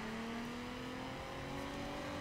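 Nissan GT-R dragster firing its rocket boost in The Crew: Wild Run, a loud steady engine roar with rising tones as the car accelerates, with no talk over it.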